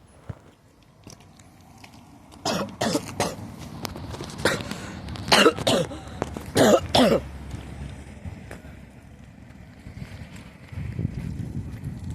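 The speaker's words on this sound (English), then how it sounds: "I'm sorry about my cough interrupting the film." Several short, sharp coughs from a person, loud and close, coming in a cluster with brief gaps, over a quiet outdoor background at a steam railway gala.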